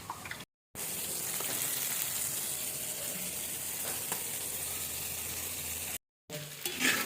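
Mussels coated in masala sizzle steadily in a hot pan as they are stirred and mixed, a dense, continuous frying hiss broken by two brief silent gaps.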